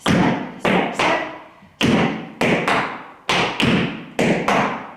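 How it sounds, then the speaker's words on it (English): Crisp tap-dance shoe strikes on a hard floor, steps and spanks in a Shim Sham routine, sharp metallic taps in quick pairs and singles forming a syncopated rhythm, close and clear, no voices. "So together that sounds step, spank, step, step, spank, step"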